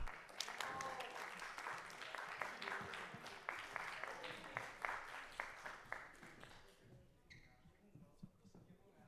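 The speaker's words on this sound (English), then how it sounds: "Give them a round of applause." Audience at a school club showcase event claps for the History Club presenters, a sparse, uneven smattering of individual claps that tapers off toward the end, followed by faint talking.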